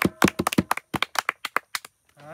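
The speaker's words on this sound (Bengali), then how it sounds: "সবাই সন্তুষ্ট, হাততালি দাও।" An audience at a music event claps in a short burst of separate, sharp handclaps that thin out and stop within two seconds, followed by a brief tonal sound.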